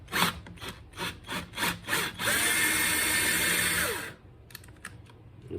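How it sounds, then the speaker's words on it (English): A handheld power drill widens a hole in a vacuum cleaner's plastic housing: a run of short bursts, then one sustained grinding pass that cuts off, loud and close, with no talking. "I got my drill. I'm just gonna open this, widen this hole a little bit."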